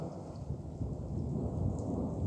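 Rain falling with a deep continuous rumble of thunder, a steady wash of noise that stays dense and fairly loud throughout.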